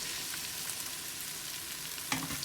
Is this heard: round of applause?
no